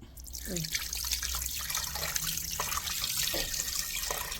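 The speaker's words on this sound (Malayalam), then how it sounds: "കുറച്ച് വെള്ളം ഒഴിക്കാം" Water pours steadily into a cooking pot holding beef liver, a continuous splashing trickle close by with faint background talk underneath.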